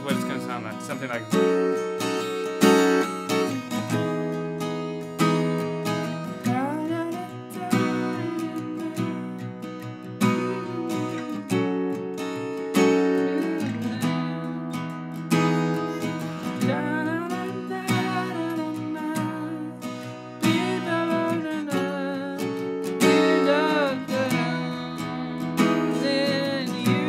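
Acoustic guitar plays a song at a beginner level, with steady strummed and picked chords repeating in a gentle rhythm, close and fairly loud throughout with no talking.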